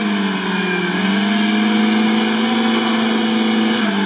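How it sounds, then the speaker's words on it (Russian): Zhiguli car engine with a stuck throttle, held at a loud, constant high-rev drone with a slight rise and dip in pitch, close and continuous with no pause. "Судя по всему, обороты не сбрасываются."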